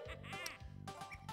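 Kazooie, the bird in Banjo-Kazooie, squawking in the video game: a quick run of nasal, buzzing, quacking chirps, faint and bright, in a short rhythmic burst.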